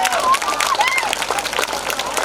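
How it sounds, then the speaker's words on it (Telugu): A crowd at a Sankranthi cultural event in Nadikudi claps in steady, fairly close applause, with whistles and voices rising over the clapping. "అందుకోసం వాళ్ళందరికీ ఒక్కసారి గట్టిగా చప్పట్లు"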